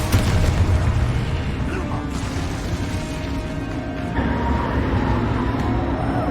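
A Confringo fire-blast spell explodes in the Hogwarts Legacy video game, a loud booming burst at the start that rolls into sustained rumbling game noise, with a second swell of rumble midway.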